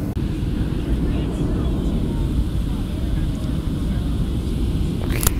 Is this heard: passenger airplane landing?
yes